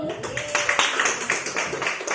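Classroom group clapping during a teachers' training session: a short patter of scattered hands clapping indoors, moderately quiet, with a brief tone and some voices in the background.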